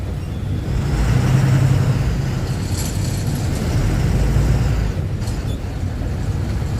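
Heavy city traffic jam with container trucks rolling past, a dense, continuous low engine rumble and road roar from several large vehicles nearby, with no one speaking.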